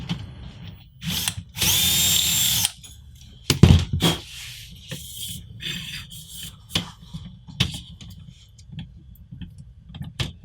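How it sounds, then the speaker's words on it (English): Short bursts of a power drill whirring and biting into a part while assembling an Anet A8 3D printer, with a long sustained run near the start, plus scraping and clicks between bursts. "I'm gonna just go ahead and take the nuclear option and drill it out."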